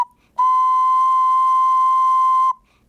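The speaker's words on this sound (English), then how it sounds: "Here we play notes from a Printone instrument into a chromatic tuner" A single sustained tone from a 3D-printed wind instrument holds one steady pitch for about two seconds, clean and clear, then stops abruptly.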